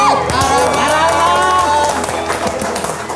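An Indonesian comedy show's studio audience breaks into applause and cheering, loud bright clapping mixed with shouts and whoops, sustained throughout and tapering slightly toward the end.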